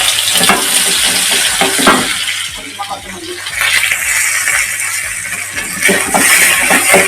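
Mustard seeds and onions fry loudly in hot oil, a dense close crackle and hiss with brief pops and some splashy scraping, steady through the whole stretch without any voice over it.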